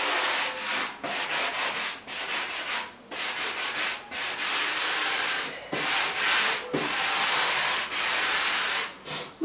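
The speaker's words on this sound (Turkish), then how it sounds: "Bu zımpara işini ne kadar çok abartırsanız budaklarınız o kadar ortaya çıkar." Sandpaper rubbing back and forth across a wooden dresser top in steady, close, loud strokes with brief pauses between passes, and no talking.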